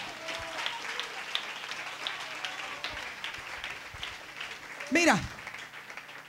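Church congregation clapping for the Lord during a Spanish-language sermon, a continuous wash of applause with voices and shouts over it and a loud exclamation near the end.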